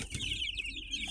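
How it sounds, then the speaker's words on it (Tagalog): Broiler chickens at nine days old cluck and chirp on a poultry farm, a steady close chatter of many birds with no talk. "day 9 ng mga broiler chicken natin guys"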